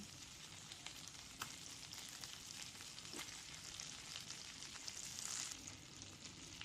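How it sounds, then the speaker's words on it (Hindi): Eggs, boiled and cut, frying in butter over medium flame, a steady close crackling sizzle with occasional sharper pops, no voices. "जब हम अंडों को बटर में फ्राई करते हैं तो बहुत अच्छा टेस्ट आता है इसमें।"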